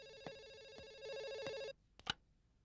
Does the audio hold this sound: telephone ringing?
yes